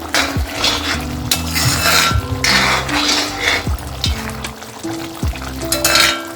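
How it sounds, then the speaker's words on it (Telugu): Mutton with coriander powder being stirred and fried in an iron kadai for a Nellore-style mutton roast, with a sizzle under repeated scraping and clanking of a metal spoon against the pan. "తగినంత ధనియాల పొడి వేసుకొని బాగా కలుపుకోవాలి."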